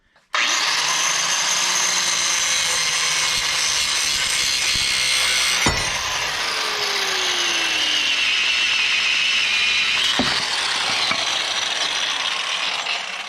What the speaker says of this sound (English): we're going to grind those U-bolts off